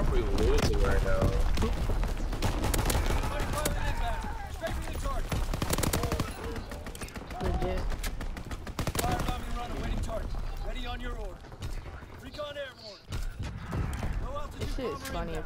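Rapid bursts of STG44 assault rifle fire and chaotic battlefield gunfire in a WW2 shooter game, loud and dense throughout, with voices talking over the action.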